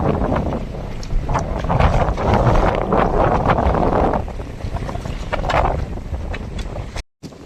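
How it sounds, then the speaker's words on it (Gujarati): Strong gusty wind roars over open water beside a small fishing boat after night rain, loud buffeting rumble that surges and eases, with no voices. "કહી પવન વધારે જાય"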